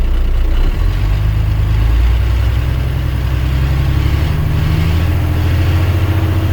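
A truck tractor's diesel engine runs loud and close, held at raised throttle to build air brake pressure: a steady, heavy low drone with slight swells in pitch and no talk over it.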